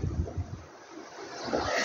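Wind gusts buffet the microphone outdoors along the Victoria Lines in Malta, low rumbling blasts that ease briefly then build again, with a broad rushing hiss like surf behind.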